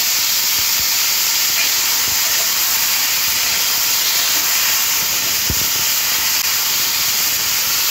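Mixed vegetables with beetroot fry in a pan, giving a continuous loud sizzling hiss with a few faint clicks and no talk.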